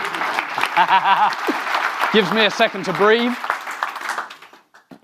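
Audience applause at a Wi-Fi design conference talk, a steady wash of clapping running under a voice as he keeps speaking over it, fading out near the end.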